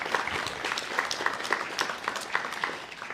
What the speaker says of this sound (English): So a round of applause to our wonderful staff here at Guide Dogs for the Blind.